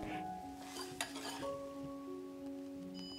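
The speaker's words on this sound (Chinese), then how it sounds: "取少量的面糊与可可糊搅匀" Cake batter stirred together with cocoa paste for Black Forest cupcakes, faint soft scraping and mixing with light clinks of utensil against bowl, quiet and close.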